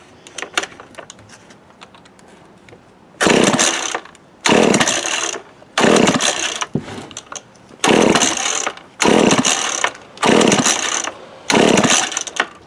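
A 1979 McCulloch Mac 110 chainsaw revs in loud, close bursts, seven roaring pulses of roughly a second each separated by short drops to a low idle after a quieter start.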